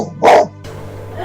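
A single dog bark rings out close and loud, followed by quiet room tone.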